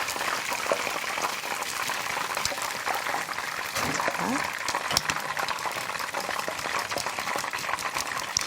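Steady sizzling and bubbling of hot oil as pork deep-fries for sweet-and-sour pork, a constant frying hiss with a few crackles and light voices in the background.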